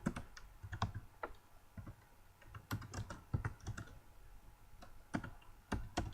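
Fast typing on a computer keyboard while router firewall commands are entered, with close, crisp key clicks in quick irregular bursts and short pauses, no voices.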